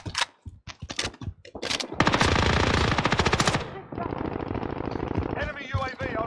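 Video game automatic gunfire hits the player, starting as sharp separate shots and building into long, loud machine-gun bursts, with a player talking over it.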